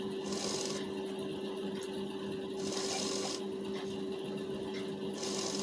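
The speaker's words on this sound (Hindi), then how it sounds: "कपड़ा संभालते हुए सिलाई डबल करेंगे।" A sewing machine runs in steady bursts while double stitching a lined blouse, the motor humming continuously with short pauses as the fabric is repositioned, close and fairly loud, with no talk.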